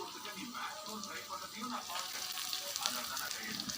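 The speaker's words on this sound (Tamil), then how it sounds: "இப்போ நல்லா வதங்கி வரட்டும். நான் வந்து கேஸை ஸ்லோவில் வைக்கிறேன்" Lentil dal mixture sautéing in a pan over a low gas flame, with a soft, steady sizzle and faint stirring scrapes that carry on for the whole stretch.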